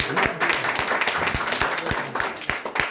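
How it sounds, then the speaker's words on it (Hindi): Audience clapping for a student topper at an award ceremony, loud, dense applause with sharp individual claps standing out, sustained and close. "इनके लिए जोरदार ताली"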